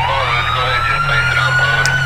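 Police siren wailing in GTA V, a loud sustained tone with a slowly rising pitch over engine rumble, close by, with someone talking faintly underneath.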